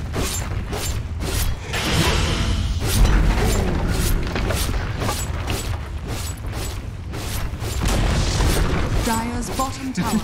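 Dota 2 tower destruction amid battle, with repeated sharp crashing impacts, mechanical rumbling and a crumbling boom, while a game announcer voice speaks over the action.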